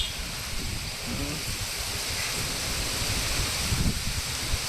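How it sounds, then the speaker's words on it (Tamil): Rain begins falling outdoors on a windy day, a steady broad hiss and rustle filling the air evenly, with faint, scattered voices underneath. "கேமராவில் மழை பெய்ய ஆரம்பிச்சிருச்சு மழை வந்துருச்சு"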